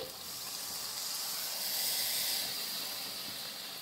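Water from rinsing a spice bowl poured into hot fried masala in a pan, giving a steady, soft steamy hiss and sizzle throughout.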